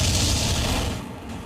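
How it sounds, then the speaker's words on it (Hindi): A missile strikes a fighter jet in the air, and a heavy blast rumbles and roars loudly for about a second before tapering into a fading wash of noise. "इस हमले के साथ जोरदार धमाका और धुएं का गुबार दिखाई दिया"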